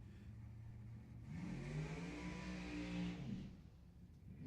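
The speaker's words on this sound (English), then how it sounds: "They're race cars." A drag racing car at Lebanon Valley Dragway revs up hard in a single rising and falling engine howl of about two seconds, loud and close over a steady background rumble.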